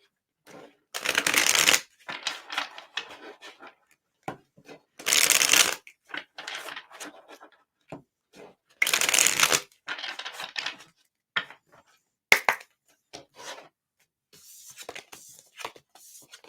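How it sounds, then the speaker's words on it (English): Tarot cards shuffled in quick bursts, several separate riffling flurries of crisp paper flutter with short pauses and light handling taps between them, close and clear. "Quick shuffles."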